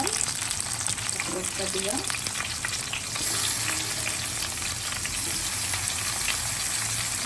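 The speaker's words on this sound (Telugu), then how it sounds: "మసాలా స్టఫ్ చేసుకున్న వంకాయల్ని అందులో వేసేసుకుందాం" Masala-stuffed brinjals fry in hot oil with already-fried onions for village-style gutti vankaya, giving a loud, steady sizzle that runs throughout, with a brief spoken word near the end.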